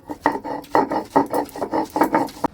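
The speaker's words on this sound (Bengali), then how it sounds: "শিলে বেটে নিচ্ছি" Grated ash gourd (chal kumra) being ground on a stone slab with a grinding stone, a close rhythmic series of about eight coarse rubbing strokes in quick succession.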